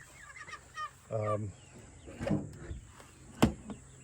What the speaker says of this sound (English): So those are all meat birds right there.